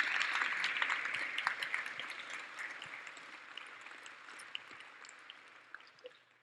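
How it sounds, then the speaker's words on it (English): Applause for speakers at a morning event on the future of work, a dense patter of clapping from an audience that slowly thins and fades, with a few lone claps near the end. "please join me in another round of applause for our speakers this morning"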